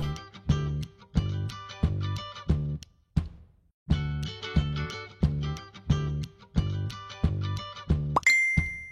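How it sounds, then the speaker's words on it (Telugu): A repeating electronic chime, short bright plinking notes in bursts with brief pauses between, ending in a higher tonal ding; no voices. "రే, మెసేజ్ వచ్చిందిరా."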